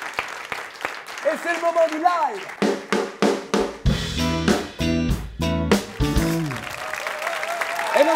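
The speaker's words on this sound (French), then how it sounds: "Et je vous demande d'applaudir très fort, s'il vous plaît" Applause from a French TV talk show studio audience welcoming a guest, bursts of clapping rising and falling under a presenter's voice and loud music stings.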